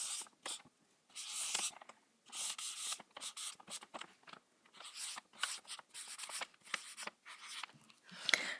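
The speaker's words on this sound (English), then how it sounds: "So right here I'm just going to write 25, and I'm going to write days" Pen marks scratch and squeak in short bursts of strokes on a handmade Christmas countdown calendar, quiet, close and intermittent with brief pauses between words.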